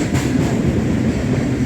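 A freight train carrying steel coils on cradle wagons and intermodal containers rolls past close by, a steady loud rumble of wheels and wagons with no pauses, alone without talk.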